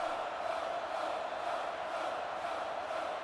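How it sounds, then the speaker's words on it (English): Simulated football stadium crowd in a video game, Michigan Hellcats home fans during a fourth-down stop against the Seattle Beefers, a steady dense roar of cheering and shouting throughout. "This Hellcats crowd begging for them to go for it."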